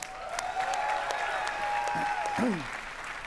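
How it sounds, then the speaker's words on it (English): A crowd applauds a drumline steadily for a few seconds at a game reveal event, with clapping and cheering layered under a sustained musical tone. "Round of applause for the drumline, guys."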